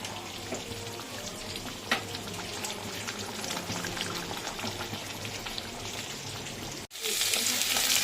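Salted fish fries in a pan with a close, continuous crackling sizzle. The sound briefly cuts out near the end, then returns brighter and louder.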